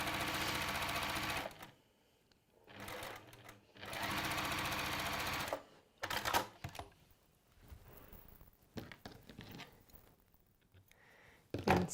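A sewing machine joins fabric strips in loud, steady bursts of rapid stitching, with pauses between runs and light handling noises in the gaps.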